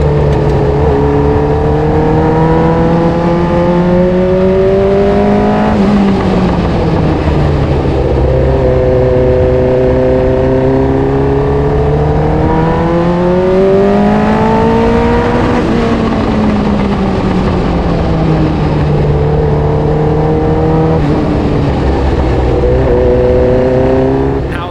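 An F1 car's engine, sat just behind the driver on a track, screams loudly and continuously, rising and falling in pitch through repeated gear changes and acceleration, with no talking.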